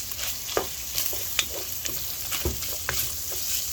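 Sausage fries in about a quarter cup of olive oil in a pan, a steady close sizzle broken by several sharp clicks and scrapes of a utensil stirring.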